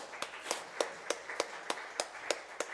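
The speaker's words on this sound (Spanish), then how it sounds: "Den un fuerte aplauso a nuestro Señor." Congregation in a Spanish-language church service clapping together in a steady rhythm, about nine sharp, evenly spaced claps that sound moderately close.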